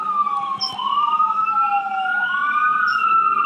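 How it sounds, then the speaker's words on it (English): An ambulance siren passes outside, a loud wailing two-tone sweep rising and falling continuously and close by, with no talking. "Nice timing with the ambulance."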